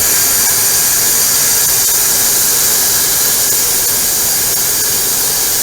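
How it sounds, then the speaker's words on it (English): Steam blasting out of a pressure cooker's release valve while ribs cook, a loud, continuous, close hiss that holds steady for the whole stretch. "you'll see the steam releasing."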